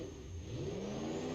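A V8 diesel monster truck engine in the BeamNG.drive driving game revs up steadily, a loud, close growl whose pitch climbs and then holds at a sustained high rev, with no other sound alongside.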